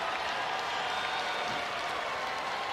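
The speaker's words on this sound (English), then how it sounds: "all the old gold and blue in the crowd here inside the T-Mobile Center on their feet to celebrate the West Virginia Mountaineers" Steady, loud crowd cheering and applause inside the T-Mobile Center for the West Virginia Mountaineers at a Big 12 Tournament basketball game against Texas Tech, a continuous roar with no breaks.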